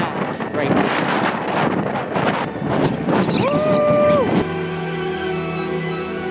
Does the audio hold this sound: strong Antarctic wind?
yes